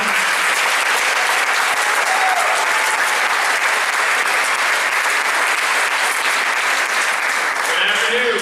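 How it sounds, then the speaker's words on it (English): A large audience at a band concert breaks into loud, sustained applause welcoming the conductor, a dense steady wash of clapping that holds at full strength throughout. "So let's cheer them on like rock stars."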